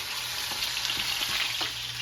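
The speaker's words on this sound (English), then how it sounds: "While this comes to a boil, I'll keep tossing the sausage around." Sausage being tossed around in a pan with tomato sauce that is coming to a boil gives a steady, close sizzle with faint scraping and stirring touches underneath.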